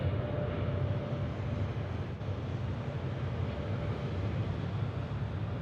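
Heavy cargo jet, a widebody loaded with fuel and freight, taking off at Memphis International Airport's FedEx hub, giving a steady, loud broadband roar that holds constant throughout with no voices.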